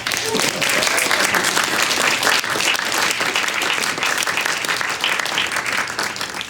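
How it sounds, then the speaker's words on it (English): Audience at an evening astrophysics and music event applauding a speaker, with steady, full clapping throughout and faint crowd voices beneath. "Let's give him a round of applause."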